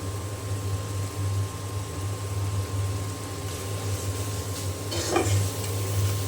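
Spices with salt and plenty of green chili being stir-fried in a pan, a steady low sizzle with a brief scrape of the utensil near the end, no talking.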